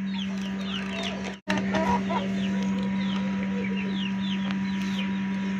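Aseel chickens cluck and chatter steadily alongside a constant low hum, with a brief dropout near the start; the clucking stays moderately close throughout.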